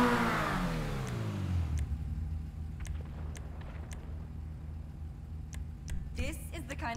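A car engine revs up in GTA Online, a loud rising roar that falls back to a steady idle hum, with a few faint clicks and a brief burst near the end.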